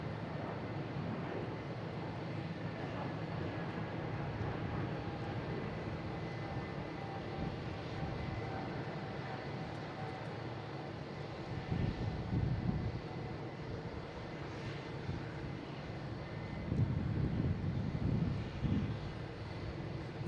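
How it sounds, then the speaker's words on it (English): JetBlue Airbus A220 taking off at Boston Logan International Airport, a distant continuous jet roar under light wind noise, with brief gusty swells toward the end and no talk. "we got JetBlue taking off here, heading to JFK, flight 717 and A220."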